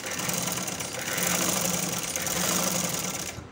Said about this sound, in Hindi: ये सिलाई जहाँ पे मैंने निशान लगाया है वहाँ तक ले जाऊँगी।